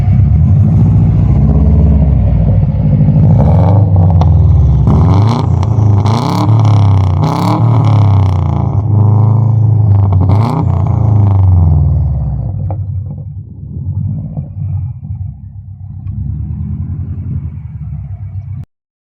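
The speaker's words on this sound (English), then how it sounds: "fire her up, go and have a listen to that exhaust" A 2004 Subaru Impreza WRX STI engine idles with a deep, throaty exhaust rumble, loud and close, with a few sharp revs before settling to a lower burble.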